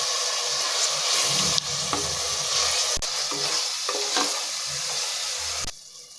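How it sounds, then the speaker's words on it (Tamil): Mutton pieces hit a pan of sautéed green chillies and tomato for biryani, sizzling loudly and steadily while being stirred, with scraping and bubbling close by before the frying dies down near the end. "இப்போ இதில் மட்டனை சேர்த்துக்கங்க"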